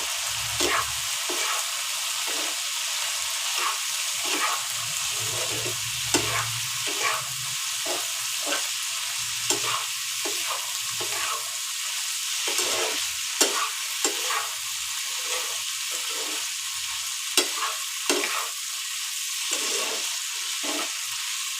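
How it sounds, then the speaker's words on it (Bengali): Boiled chickpeas frying in a pan, a steady sizzle with repeated scraping stirs of a spatula at an irregular rhythm, close up and continuous, with no talking. "এই দেখুন আমি বুট সিদ্ধগুলো ঢেলে দিয়েছি।"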